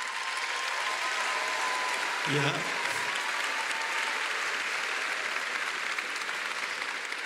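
Audience applause for Dean Rick Russo of Berkeley Extension at an EDHEC Business School celebration: sustained, even clapping throughout, with a brief voice calling out partway through.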